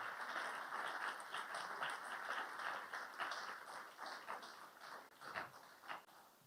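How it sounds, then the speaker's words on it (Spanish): A church congregation claps in a continuous, moderately distant patter of many hands, fairly quiet and even, with a few sharper claps standing out near the end. "Apláudele bien fuerte."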